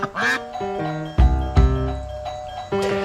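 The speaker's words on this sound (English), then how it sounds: "Thank you, doorbell." A two-tone electronic doorbell chime rings out, a bright melodic ding-dong pattern with sustained tones, then repeats after a brief gap, fairly loud and close.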